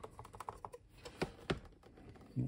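Keys pressed on a Sega SK-1100 keyboard for the SG-1000 series give a run of close, uneven plastic clicks. Two sharper strikes stand out near the middle, and a duller thump comes at the end.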